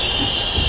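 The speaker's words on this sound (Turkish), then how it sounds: "Bakın trenimize bakın." Train rolling along in a Minecraft animation: a steady, continuous rail rumble with a bright hiss on top, loud and close, rising a little at the end.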